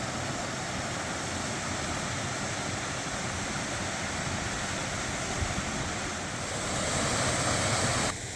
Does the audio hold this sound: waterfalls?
yes